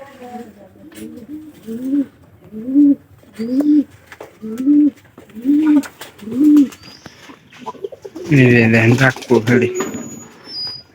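A pigeon coos in a steady series of low, rolling calls, close by, followed by a louder burst of voices or fluttering at the end.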